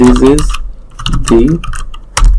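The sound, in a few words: typing code on a computer keyboard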